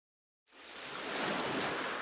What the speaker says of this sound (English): you can hear the sound of the waves